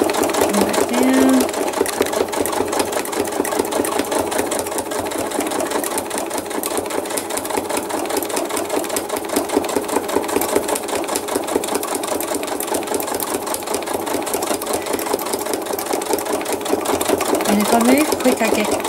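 A sewing machine runs steadily while stitching thread art from a photo with big stitches, straining a little under the work, its fast, continuous close-up whir lasting throughout with a person talking over it.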